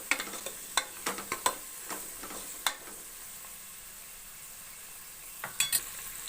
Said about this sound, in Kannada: ಫ್ರೈ ಮಾಡ್ಕೊತಾ ಇದ್ದೀವಿ ಎಣ್ಣೆಲಿ ಈರುಳ್ಳಿನ.